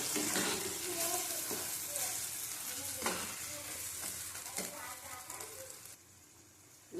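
A spice paste sizzles steadily in a pan as it is sautéed, with repeated stirring and scraping, close and fairly loud, before the sound drops away near the end.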